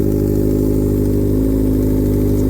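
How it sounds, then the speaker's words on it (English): A Honda CBR600RR sport bike idles steadily with its air box removed, a loud, even mechanical hum close by that holds a smooth, unchanging rhythm with no voices. "I just started the bike with the air box off."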